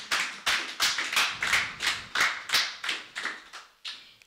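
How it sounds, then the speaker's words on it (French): A church congregation claps in a steady rhythm, about a dozen crisp, unison bursts of applause evenly spaced and fairly close, with no voices over them. "Acclamez pour la parole de Dieu."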